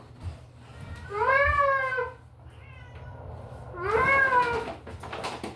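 A formerly outdoor cat gives two long, drawn-out meows a couple of seconds apart, close and clear, over a low steady indoor hum.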